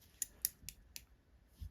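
Scissors snip off a bunch of medium-to-dark Comparadun deer hair at a fly-tying bench: two sharp, close clicks, then a couple of softer cuts, with a low thump near the end.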